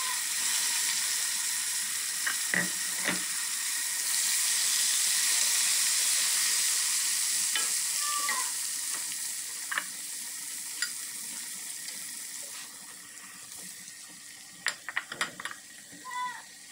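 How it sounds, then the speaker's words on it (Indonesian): Tempeh frying in oil in a home kitchen, a steady bright sizzle running throughout with occasional pops and soft clatters from stirring or utensils. "saya mau ngegoreng tempenya sampai selesai"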